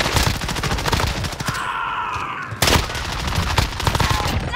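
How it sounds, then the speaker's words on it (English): Rapid automatic gunfire in a first-person shooter match on Rebirth Island, with the FARA 83 rifle in play: loud, fast bursts of shots rattling close by, a brief lull, then another sharp volley. "Taking fire here."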